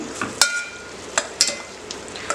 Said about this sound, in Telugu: కొద్దిగా కొత్తిమీర అండ్ కొద్దిగా పుదీనా అనేది వేస్తున్నాను. ఇప్పుడు ఇదంతా ఒకసారి మనం బాగా కలిపేసుకుందాం.